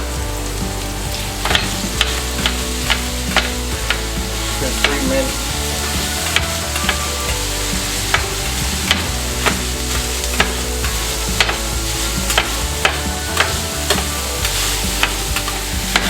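Cheesesteak meat and vegetables sizzle on a griddle while a spatula chops them with a steady run of sharp scraping taps; one person speaks briefly over the loud, continuous frying.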